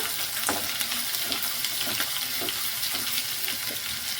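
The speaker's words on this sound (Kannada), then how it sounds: "ಈರುಳ್ಳಿ ಕೆಂಪುಗಾಗೋವರೆಗೂ ಸ್ವಲ್ಪ ಈ ಥರ ನೀಟಾಗಿ ಫ್ರೈ ಮಾಡ್ಕೊಳ್ಳೋಣ" Onions fry in a pan for capsicum curry, making a continuous moderate sizzle punctuated by regular soft stirring scrapes roughly every half second, with no voices.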